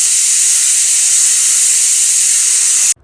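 A pressure cooker cooking chicken lets out a loud, steady jet of hissing steam for about three seconds, then cuts off abruptly.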